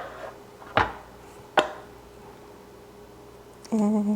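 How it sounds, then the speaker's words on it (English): Focaccia dough plopped onto an oiled baking pan: two sharp, close soft-slap impacts about a second apart, followed by a quiet pause and a brief steady tonal hum. "Take our dough here and just plop it out over there"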